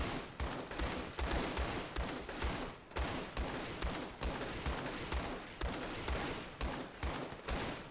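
Sustained gunfire across a Vietnam jungle map in Call to Arms, a continuous rhythmic stream of shots at steady volume with no voices.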